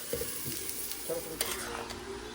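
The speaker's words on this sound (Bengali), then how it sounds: "এটা উপমার জন্য সব সবজিগুলো ভাজা হচ্ছে" Vegetables for upma sizzle and crackle in a hot pan, with a few scraping stirs and clatters breaking through the steady frying hiss.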